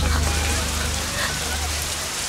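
Steady rain falls continuously and fairly loudly, a dense even hiss with faint low rumble underneath, and no clear voices over it.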